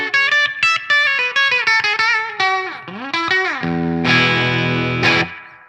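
Clean-tone electric guitar notes and chords ring out in a rapid run, then a sliding bend and sustained strummed chords, fairly loud with some effects coloring the tone.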